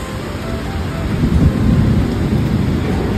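Heavy downpour with thunder, a dense, loud wash of rain and a low rolling rumble that builds toward the middle, steady throughout without any voices.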